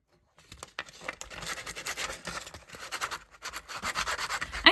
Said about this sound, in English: So I'm going to sand these down and make them softer to the touch.